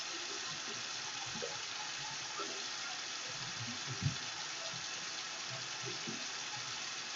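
Water runs steadily from a sink tap while hands are washed, a constant broad hiss with faint splashing and rubbing underneath.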